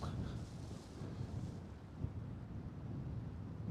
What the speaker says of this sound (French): On prend un peu de vent.